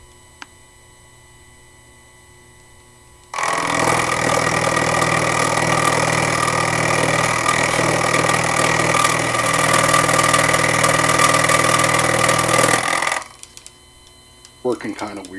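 A Proxxon FF230 mill with a cheap 12mm carbide end mill carrying two inserts cuts 316 stainless steel, a loud steady grinding roar that starts abruptly, runs about ten seconds, then cuts out to near quiet.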